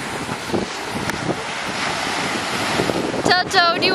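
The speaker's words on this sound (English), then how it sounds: "we're at the beach, but it's so windy, and literally look at the waves" Strong wind buffeting the microphone in a loud continuous rush at a beach on Lake Huron, with surf underneath and a brief voice near the end.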